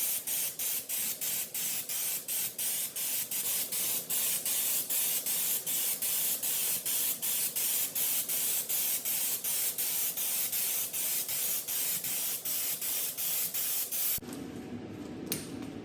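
A paint spray gun lays a coat of hardened paint onto a truck tailgate, giving a continuous close hiss with a fast pulsing flutter that cuts off near the end.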